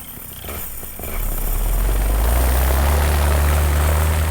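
Loud, close, continuous buzzing drone from a malfunctioning model airplane engine with a bad pull starter, swelling in strength after a second and then holding a harsh, steady roar.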